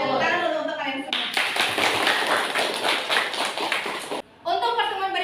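Students in a classroom clap their hands together in a dense burst of applause lasting about three seconds, with a teacher's speech just before and after.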